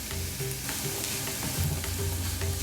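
Masala with green pepper and red chili sautes in a pan, a dense continuous sizzle with a steady low hum and faint stirring beneath it.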